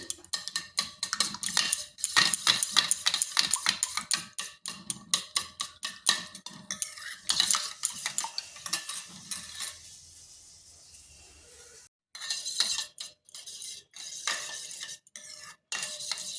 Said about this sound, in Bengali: ডিমগুলোকে এইভাবে ভালো করে ফেটিয়ে নিয়েছি